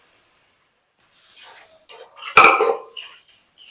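Boiled chana dal poured with its water into a pan of papaya: clattering pot and utensil knocks, then a sharp splash and pouring slosh, with scattered scrapes and taps afterward.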